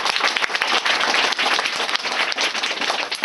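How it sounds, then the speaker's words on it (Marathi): Children clap loudly and steadily for Professor Dr. Mahesh Mote, a dense, close burst of applause lasting about three seconds with no talking. "सरसाठी जरा जोरात टाळ्या वाजवायच्या."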